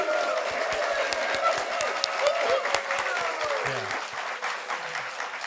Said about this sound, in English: If everybody could just audibly give Shelly and the Nisenan a round of applause so that we know that you're here.